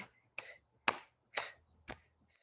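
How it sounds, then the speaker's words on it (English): Five sharp hand claps spaced roughly half a second apart during a fitness class, fairly close, with a faint sixth at the end and a low hum beneath. "Try to clap your hands, generate some energy."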